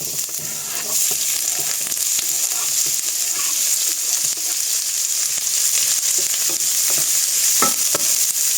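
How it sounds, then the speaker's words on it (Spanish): Onion fries in extra virgin olive oil in a frying pan, a steady, loud sizzle with occasional stirring clinks and scrapes throughout. "Y en la misma sartén ponemos la cebolla."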